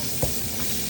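Chopped onions sizzle loudly and continuously in a non-stick pan, with a brief stir-scrape near the start.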